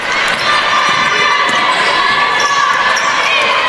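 A crowd at a women's college basketball game between Tampa and Barry cheers and shouts steadily, a loud dense roar with sneaker squeaks and scattered high voices filling the gym.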